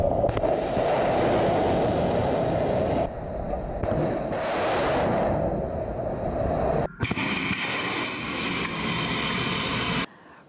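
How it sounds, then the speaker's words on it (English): Missile launches from warships and a submarine at sea in the Mediterranean, a loud sustained broadband roar and rush that runs for about ten seconds, with a sharp shift partway through before it cuts off. "a new video showing missiles being launched from warships and a submarine in the Mediterranean"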